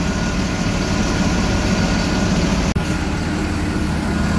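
A bus engine idles steadily up close inside the driver's cab of a new Po. Haryanto unit, a continuous low rumble with a brief dropout near the end, no voices.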